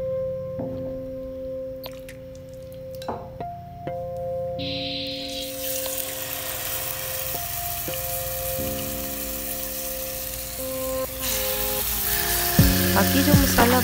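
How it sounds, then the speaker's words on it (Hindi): Marinated chicken tikka frying in a tablespoon of oil in a pan, a steady broad sizzle that grows louder midway and continues alone under background tones. "एक पैन लेंगे, उसमें 1 टेबलस्पून ऑयल डालेंगे और अपनी मैरिनेट की हुई चिकन टिक्के को इसमें डालेंगे"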